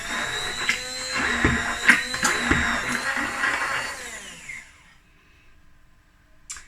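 A blender whirs loudly through a batch of oil-free vegan mayonnaise, its motor pitch wavering with a few thumps before winding down to near silence, followed by a faint click at the end.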